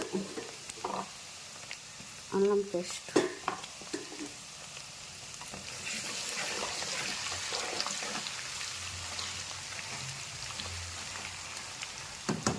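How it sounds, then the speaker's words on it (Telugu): Chicken pieces roast in a pan with a steady sizzle and crackle, broken early on by a few louder clanks and stirs, then settling into a constant frying hiss close by. "ఇలా పీస్ రోస్ట్ చేసుకోవాలి, గోల్డ్ వచ్చేటట్టుగా"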